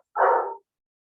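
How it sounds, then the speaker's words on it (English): A dog gives a single close, mid-pitched bark that cuts off cleanly, followed by silence. "So that's why he's barking every time."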